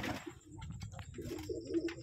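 Fancy pigeons, pouter breed among them, coo in a home loft, a low throaty burble repeating close by with some light rustling and faint background noise.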